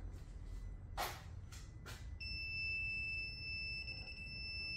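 A few faint high chirps are followed by a steady, continuous electronic tone, a parking sensor on a Citroen C4 warning that something is very close.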